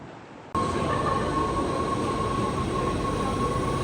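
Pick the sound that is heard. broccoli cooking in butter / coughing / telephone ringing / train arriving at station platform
train arriving at station platform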